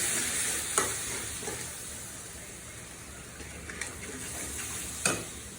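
Hog plums sautéing with coconut milk in a pan give a steady, close sizzle with a few sharp clicks of a spoon against the pan, no voices.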